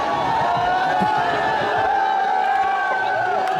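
A late-night protest crowd at Jantar Mantar in Delhi fills the air with a steady, dense roar of many voices, shouts and chant-like tones blending at moderate distance.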